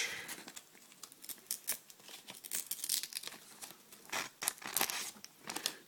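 A knife edge freshly sharpened, with a rough spot, push-cutting through paper in a test, giving a run of crisp, dry crinkling and tearing bursts at close range, uneven in rhythm with no talk.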